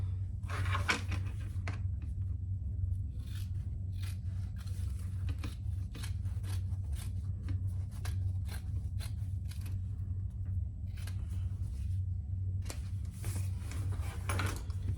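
Scissors trim a zipper on a leather crossbody bag, a run of quick close snips and soft scraping cuts over a constant low hum.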